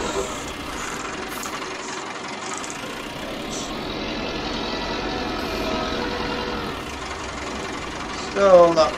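A 1967 farm tractor engine runs steadily at close range with a low, even throbbing idle, while someone talks over it; a brief louder burst comes near the end.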